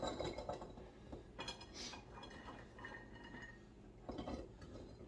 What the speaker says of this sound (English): Now we'll fill the second jar up